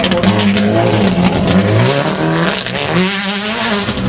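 A Peugeot 307 WRC rally car races a gravel special stage at the Barbórka Rally 2011 in Bemowo. Its engine revs loud and close, rising and falling in pitch through gear changes.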